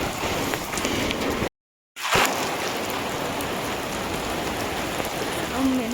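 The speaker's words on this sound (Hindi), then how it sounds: "शाम में अचानक तो ही एकदम तो बारिश होनी शुरू हो गई थी बहुत तेज" Heavy evening rain pouring down steadily as a broad hiss of drops hitting surfaces, cut by a brief silent gap, then resuming at the same strength.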